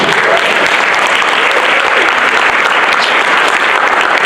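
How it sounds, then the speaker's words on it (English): An audience applauds at an awards ceremony, a dense, loud, sustained clapping from a large crowd that fills the whole moment without pause. "Let's give it up for them."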